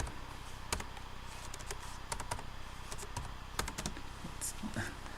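Typing on a computer keyboard, a quick, irregular run of close key clicks and taps at moderate volume, with a few louder strikes and no talking.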